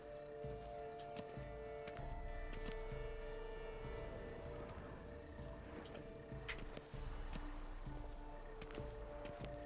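Horse in The Witcher 3 video game, clip-clop of hooves at a walk with soft snorts over a chirring cricket and insect ambience.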